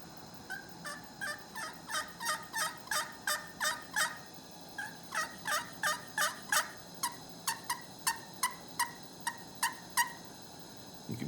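Penn's Woods slate turkey call from Pennsylvania, scratched with a striker, producing a rhythmic run of about twenty sharp, fairly quiet yelps in evenly spaced clusters with a brief pause midway, close and alone.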